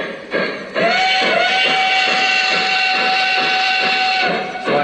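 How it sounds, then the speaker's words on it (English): A Lionel model train's steam whistle plays back as one long, steady sustained tone, loud and close, starting just after a short hiss and ending abruptly near the close. "So I blew the whistle, I sped up the train."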